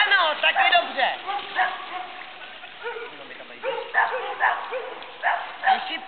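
Female dog in guard training barking on command, several sharp barks in short bursts near the start and again later, with a handler speaking commands between them.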